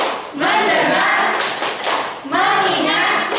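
Students in a classroom clap in a patterned rhythm, two loud bursts of clapping blended with voices chanting together.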